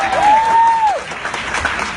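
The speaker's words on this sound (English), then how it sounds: "Let's give them a round of applause." Audience applause for a corporate team at a company gathering, a loud burst of clapping from the crowd with a pitched voice-like tone rising over it early on, then the clapping continues more thinly.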